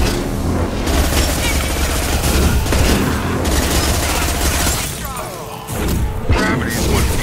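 High-impact gunshots in the sci-fi shooter game Mass Effect 2, dense booming blasts and thuds layered in a loud continuous battle din, with voices talking over the combat.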